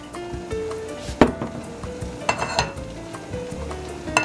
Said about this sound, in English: Let's get the oil in there.